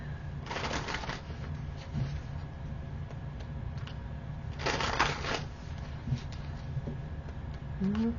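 Tarot cards are shuffled in two crisp riffling bursts, the first near the start and the second midway, close and fairly loud, with quiet handling noises and faint room sounds between them.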